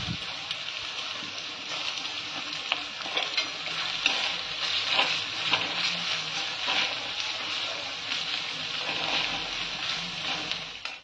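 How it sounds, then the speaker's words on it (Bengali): Two large onions frying in oil for beresta, the crisp fried onion garnish for Bengali mutton kosha, a loud, dense, continuous sizzle and crackle with occasional stirring scrapes throughout. "বেরেস্তার জন্য পেঁয়াজটা ছেড়ে দিচ্ছি।"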